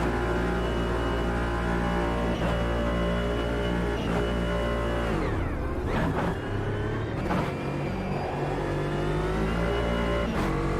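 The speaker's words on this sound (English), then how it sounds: "Excuse the noise for a moment as I attempt to brake my car." A race car engine in the AMS2 racing sim drones loudly and steadily, then drops in pitch as it brakes and downshifts, with sharp mechanical pops along the way.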